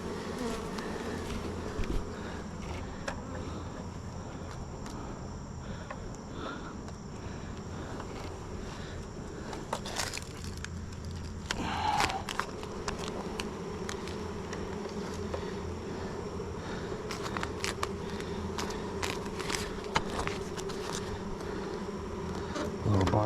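Honeybees buzz loudly and continuously inside a backyard hive box, a dense steady hum with a few brief louder knocks and rustles over it.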